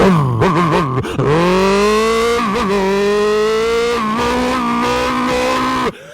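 A voice imitates a Ducati motorcycle revving and pulling away, a loud sustained engine whine with rising pitch sweeps and gear-shift-like breaks, continuous for about six seconds.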